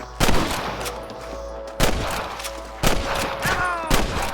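Gunfire against snipers in Red Dead Redemption 2: four loud, sharp shots spaced about a second apart, each trailing into a ringing echo, with no talking.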